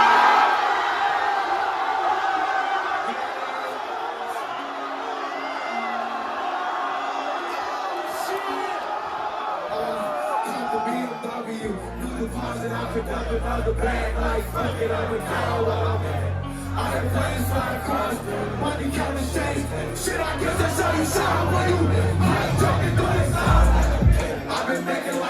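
A large concert crowd in Amsterdam roars and screams for a rapper as a special guest, loud sustained cheering and shouting that gives way partway through to thumping bass-heavy music under the continuing crowd noise.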